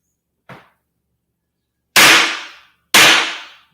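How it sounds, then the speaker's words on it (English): A gavel is banged three times, one light tap followed by two loud, sharp, close strikes about a second apart, each with a short ringing decay into silence. "Gotta bang the gavel on you"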